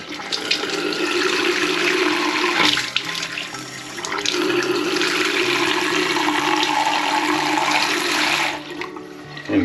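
Water gushing from a newly installed sink mixer tap, a strong steady splashing stream that runs for about nine seconds, loud and close, before cutting off abruptly.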